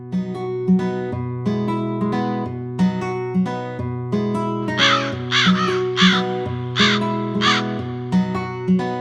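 Crows caw repeatedly and loudly over a steady, bright musical backing in a Tamil children's story, the harsh calls coming in a rapid series close up.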